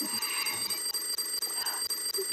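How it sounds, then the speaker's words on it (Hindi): An alarm clock rings in a bedroom scene from a Pakistani film, its electronic beeping repeating in a steady, fast rhythm. The sound is loud, close and continuous, with no voices over it. "अलार्म बज रहा है"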